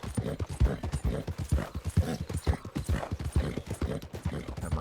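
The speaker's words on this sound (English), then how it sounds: "Got my horse all angry." Horse hooves clip-clop in a brisk, steady rhythm in the Red Dead Online video game, loud and close, with a brief agitated whinny mixed in and no talking.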